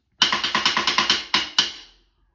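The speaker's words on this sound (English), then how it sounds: "What you also can do is play on the rim" Bright, clicky taps of a drumstick on a snare drum's metal rim, about ten quick hits in a steady pattern, then two spaced strikes that ring out.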